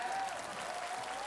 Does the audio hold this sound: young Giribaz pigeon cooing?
no